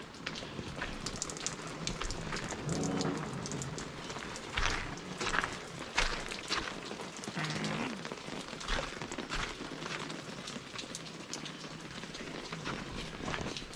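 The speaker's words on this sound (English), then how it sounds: "here's some more of that crazy hail we just got" Crazy hail coming down in California, a dense, steady patter of close impacts drumming on surfaces without a break.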